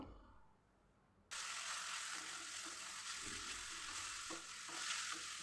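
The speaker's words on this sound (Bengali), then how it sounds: "তারপরে খুব ভালোভাবে নাড়াচাড়া করে একদম ভাজা ভাজা করে ফেলবো" Spinach frying in a hot pan, a loud continuous sizzle starting abruptly after a quiet moment, with light scraping and stirring clicks throughout.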